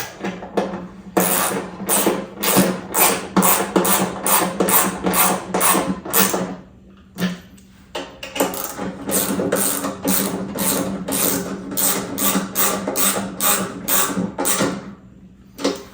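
A wrench tightens the deck spindle bolts on a John Deere 100 Series 42-inch mower deck, giving rapid repeated ratcheting clicks in long runs with a short pause midway, close and fairly loud.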